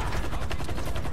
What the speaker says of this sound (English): Don't run into the helicopter.